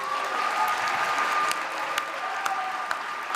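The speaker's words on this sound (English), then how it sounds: "Can we give them a big round of applause" Steady, moderately distant applause from an audience at an award ceremony carries on for a few seconds, with a few sharper claps standing out.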